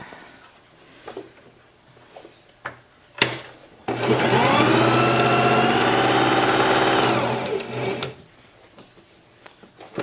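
Sewing machine stitching and trimming fabric for a face mask, a loud steady mechanical whir running about four seconds, framed by quieter handling clicks and taps before and after.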